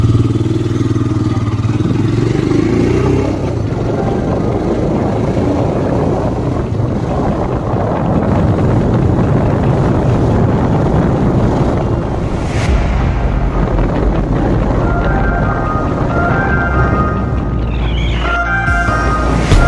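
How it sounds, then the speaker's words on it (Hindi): Steady wind roar buffets the microphone during a motorcycle ride, with a low engine drone underneath throughout and a brief louder gust near the end. "लेकिन जब बाइक चलाता है तो पूरा हवा घुसता है"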